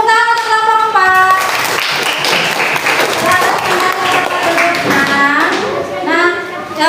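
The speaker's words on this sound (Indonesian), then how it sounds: "Tepuk tangan untuk kelompok 4." Classroom applause for a student group, with children clapping in a busy, sustained burst of hand claps mixed with kids' voices and chatter throughout.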